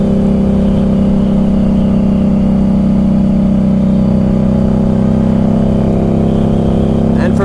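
Steady, loud engine drone of a 2015 Harley Davidson XG750 Street motorcycle under way, holding a smooth, even tone throughout with constant road and wind roar and no breaks.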